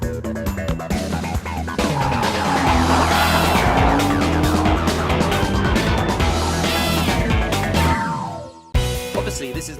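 A Lexus LFA supercar drives with a loud, sustained engine roar and tire noise over about eight seconds, dipping to a brief quiet before the sound resumes near the end.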